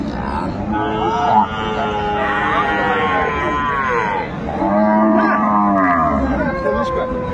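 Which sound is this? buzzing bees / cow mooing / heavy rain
cow mooing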